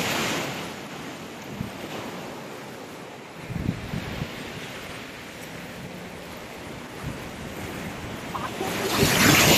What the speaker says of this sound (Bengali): ঢেউগুলো এখানে ভাঙছে, কি বড় বড় দেখ